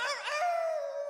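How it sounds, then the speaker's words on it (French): A wolf or stray dog howls in a cartoon. A short wavering yelp leads into one long, steady, fading howl, heard faint and alone. "Ça doit être un chien errant."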